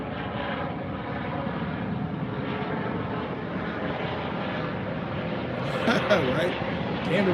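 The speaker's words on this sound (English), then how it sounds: "these tour helicopters is going by. That's what y'all hear." Tour helicopters pass overhead as a broad, steady engine drone that fills the whole stretch and swells slightly near the end, while people keep talking underneath.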